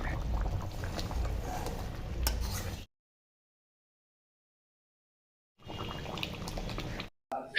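Chicken vindaloo curry simmering in a pan, a steady bubbling, sizzling hiss heard in two stretches separated by a silent gap.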